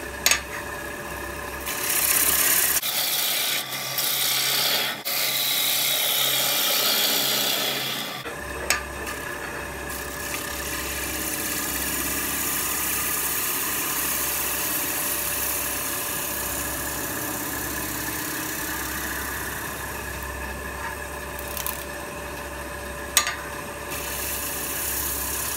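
A wood lathe turning a green wood natural edge winged bowl with a bottom feeder bowl gouge: a steady motor hum with a rough scraping, rasping cut that drops away briefly and then runs on evenly and close, with no talk.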